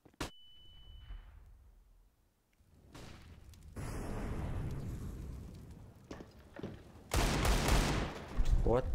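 Bomb detonating in a competitive first-person shooter round, a loud broadband blast bursting in near the end after scattered shots and thuds, with speech heard faintly earlier.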